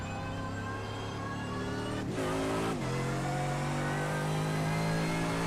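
A GT race car at Circuit de la Sarthe in a Scandinavian GT Series round lifts briefly through a chicane, then comes back on the power with a loud, steady, rising engine note held close.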